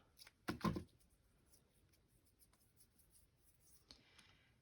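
Scissors cut paper for a collage in one short, scratchy snip near the start, followed by faint rustles and a soft scrape later in a quiet room.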